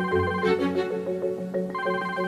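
A mobile phone ringtone plays a bright, looping electronic melody of clear repeated notes, steady and fairly loud indoors for a couple of seconds with no talking over it.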